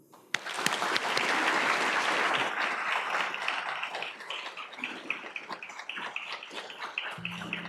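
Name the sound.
audience applause welcoming the lecturer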